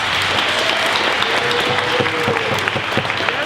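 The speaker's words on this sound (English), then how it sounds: "Let's give them one more round of applause." An audience at a high school poetry recitation competition gives a full round of applause for graduating seniors: many hands clapping steadily and loudly, with scattered sharper claps standing out.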